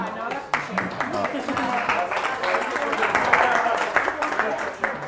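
Wedding reception guests clapping after a speech, scattered crowd applause at moderate level lasting several seconds, with voices murmuring and talking underneath.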